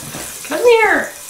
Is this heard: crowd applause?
no